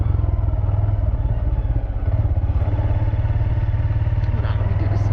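A Honda Grom motorcycle rides along and makes a U-turn, its mid-pitched engine holding a steady, loud drone throughout with slight rises and falls in revs and some wind rumble.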